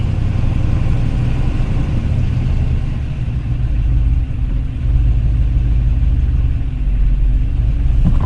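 A project car engine idles just after starting, with a loud, close, steady low rumble that dips slightly at moments.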